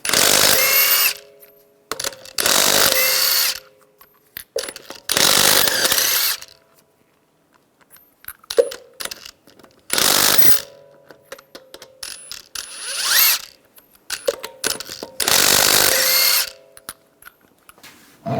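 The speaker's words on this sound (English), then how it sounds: "use a 22mm socket, take the lug nuts off" Lug nuts come off a 2011-2018 Ram 1500 3.6L V6 with a 22mm socket on a power tool, heard as about seven loud, close bursts of rattling, whirring tool noise separated by short quiet pauses.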